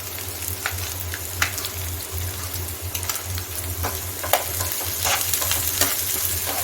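Vegetables cook in a non-stick pan, giving a steady close sizzle with frequent scraping stirs and occasional sharp pops and crackles.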